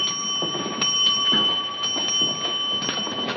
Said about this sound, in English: 7 bells. It's 11:30.